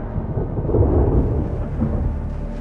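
Deep rolling thunder rumbles continuously through a storm with rain, loud and sustained without any clear pauses, carrying a heavy low roar.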